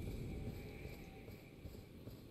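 Horse hooves clip-clopping in a PS5 video game, a soft, steady walking patter under a broad low rumble, fairly quiet and continuous with no clear talk.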